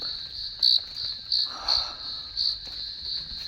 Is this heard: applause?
no